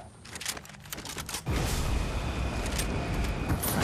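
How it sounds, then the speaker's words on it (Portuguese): Gunfire in the Fortnite video game: a few scattered shots at first, then a dense, loud continuous burst of automatic fire and blasts filling the rest. "Opa, tá tendo tiro lá atrás."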